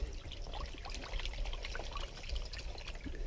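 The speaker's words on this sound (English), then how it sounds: "you just want to agitate that water really good" Water swirled and agitated in a container to rinse heirloom tomato seeds, a steady close sloshing and trickling texture with no talk.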